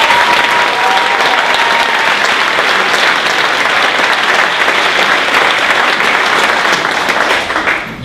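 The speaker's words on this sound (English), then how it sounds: "I think we need to give a big round of applause to Lexi, Nina, Dustin, and Aaron" Loud, sustained applause from an audience at an annual school medals ceremony, dense and steady throughout, with a voice briefly audible under the clapping.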